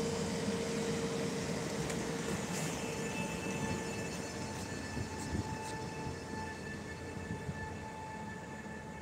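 A train idles at Jelenia Góra station with a steady low rumble and faint electrical hum, broad noise throughout with a few soft metallic clicks, fairly close.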